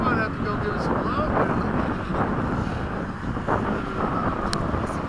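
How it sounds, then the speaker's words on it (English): A plane's engine roars as a steady, loud drone with buffeting wind noise on the microphone throughout, at an airfield where fighter jets fly in formation. "Listen to that plane"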